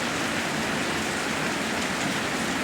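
Rain pours steadily during a dark afternoon thunderstorm, a dense, even hiss of falling drops with no pauses and no voices.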